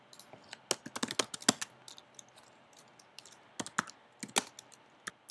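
Fingers typing on a computer keyboard while filling in form fields, bursts of quick close clicks separated by short pauses, with a quieter stretch in the middle before another flurry.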